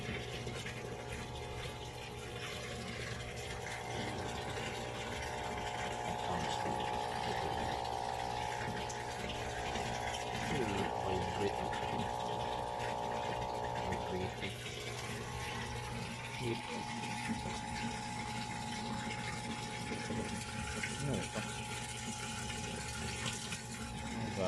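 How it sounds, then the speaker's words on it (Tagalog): A heavy-duty air pump runs steadily with a continuous whirring drone and watery, bubbling texture, moderately loud throughout and mixed with background voices. "Ito yung air pump. Heavy duty na air pump is."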